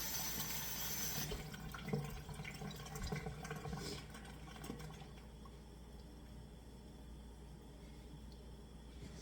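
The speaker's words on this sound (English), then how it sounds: "You're going to rinse these in cold water." Cold water runs from a tap over vegetables being rinsed and splashes in a sink, loud at first, then settling into a quieter steady trickle.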